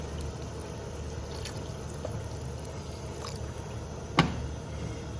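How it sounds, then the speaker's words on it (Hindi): Two glasses of water poured into a cauliflower (gobi) dish in a pan, a steady soft liquid wash with a brief louder splash near the end, no voices. "ये अब इसमें 2 गिलास पानी डाल दें।"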